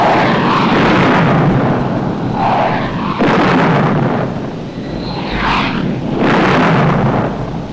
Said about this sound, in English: We'll start right off with a bang. I should say boom. Sonic boom.